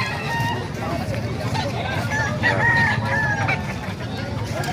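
A Kanawayon gamefowl rooster crows midway through, a drawn-out call amid clucking birds and a busy yard, while someone talks nearby throughout.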